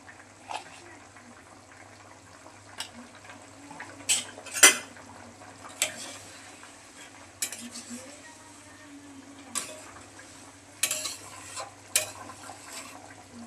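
Pieces of fried fish tipped into a simmering fish curry with gati kochu and stirred in, metal utensils clinking and scraping against the pot in scattered sharp knocks over a low bubbling, with a voice talking intermittently.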